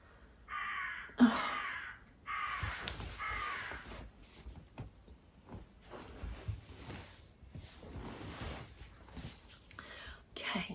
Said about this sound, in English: you're gonna have to put up with the noise of the crows now